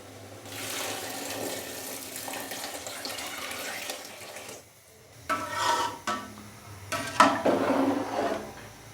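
Water is poured by the glassful into a cooking pot holding basmati rice for vegetable pulao. A faint splashing trickle is followed by several louder, closer pours in uneven bursts.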